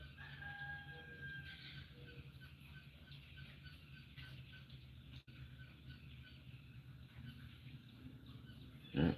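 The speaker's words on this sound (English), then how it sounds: "The chickens are crowing and the birds are birding." Chickens crowing outdoors alongside general birdsong, fairly faint and distant, with a brief louder burst at the very end and no talking.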